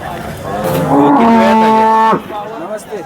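At a cattle market in Sangola, a cow in its fourth lactation gives one long, loud, close moo that holds steady for about a second before cutting off, with faint murmuring in the background.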